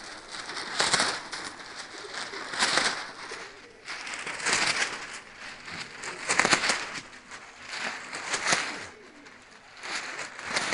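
A flock of red racing pigeons is released and takes flight, wings flapping in repeated bursts of fluttering with faint cooing, close by and fairly loud throughout without speech.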